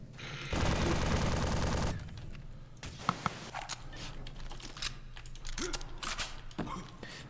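Automatic gunfire from the video game Exodus From The Earth: a loud, dense burst of rapid shots early on, then scattered sharp reports and clatter mixed with game noise and a low hum.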